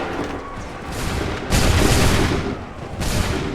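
Volleys of musket fire in Assassin's Creed 3 crack out in loud, booming waves, with a fresh salvo striking at intervals over a rolling rumble of reports.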